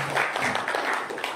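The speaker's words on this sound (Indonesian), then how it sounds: "Kita beri tepuk tangan dulu untuk Dokter Yuda." An audience at an ambulance crew first-aid training session in Cilacap gives a brief burst of applause, a dense patter of many hands clapping for the doctor over roughly a second and a half.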